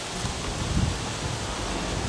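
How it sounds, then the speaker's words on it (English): Strong wind blowing outdoors, a steady broadband roar buffeting the microphone throughout, with a brief low gust surge near the start and no voices. "It's really windy."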